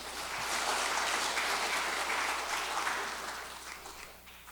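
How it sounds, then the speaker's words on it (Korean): An audience at a Sunday service applauds steadily for several seconds, a dense, even clatter of clapping that swells and then tapers off. "박수 부탁드립니다."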